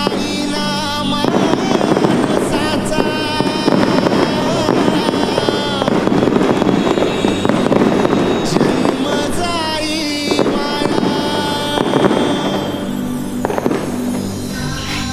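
Dense, continuous crackling of firecrackers bursting in rapid succession at a Ganesh festival celebration, loud and close, with sharper pops standing out over a steady roar.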